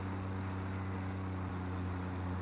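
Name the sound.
truck engine in Satisfactory video game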